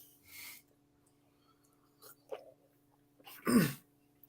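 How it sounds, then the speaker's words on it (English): A man quietly clears his throat in a brief, rough burst near the end, after a few faint breaths and small mouth noises in an otherwise hushed room. "You'll forgive me if I clear my throat."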